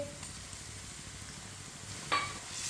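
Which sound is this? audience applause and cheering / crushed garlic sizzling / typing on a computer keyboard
crushed garlic sizzling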